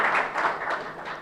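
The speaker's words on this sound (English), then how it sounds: "a round of applause for him" An audience at the launch of the EU-Ghana skills pact gives a short round of applause, a brief burst of pulsing hand claps that stays fairly even and soon tapers.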